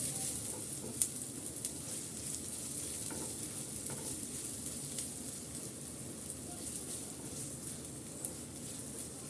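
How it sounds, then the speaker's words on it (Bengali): Chopped onion softening in soybean oil in a pan, a steady close sizzle and crackle with occasional small pops, heard on its own without talk. "সাথে দিয়ে দিচ্ছি পেঁয়াজ কুচি পেঁয়াজটা হালকা একটু নরম করে নিচ্ছি আমি"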